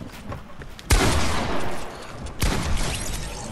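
Two loud, close shotgun blasts in Fortnite, the first at about one second and the second near the two-and-a-half-second mark, each followed by a ringing decay.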